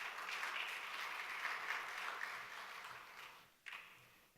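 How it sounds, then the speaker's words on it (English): Audience applause for a speaker at a conference session, steady clapping from a crowd that gradually fades out, ending with a brief louder knock near the end. "Please, a round of applause for Joyce."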